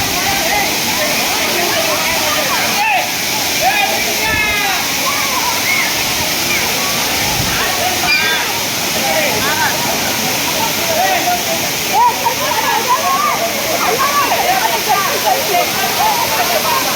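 Nhavankond waterfall at Talavade in Devgad roars steadily and loudly throughout, a dense continuous rush of falling water with splashing, while people talk and shout nearby over it.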